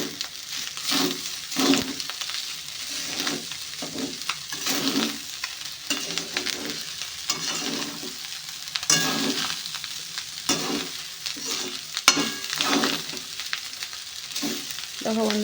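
Leftover rice with spices and coriander leaves being stirred in a pan, a steady low sizzle broken by repeated scraping strokes of the spatula at an uneven rhythm, close and moderately loud, with no talking.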